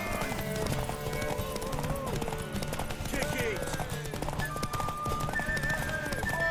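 Rhythmic clip-clop of hooves galloping with a horse neighing in The Witcher 3: Wild Hunt, amid game music and voices talking over it.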